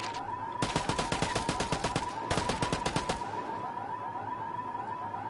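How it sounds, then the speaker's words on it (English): Two loud bursts of rapid automatic gunfire from a video game, each a dense string of shots lasting about a second, with a steady electronic tone running underneath and quiet game ambience afterward. "That was real bullets."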